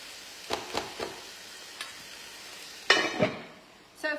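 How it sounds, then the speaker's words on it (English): Frozen beef mince frying in a pan is bashed up with a utensil: several sharp knocks and scrapes over a low steady sizzle, close and without talk. "I'm just bashing up this mince again"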